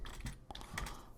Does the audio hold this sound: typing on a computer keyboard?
yes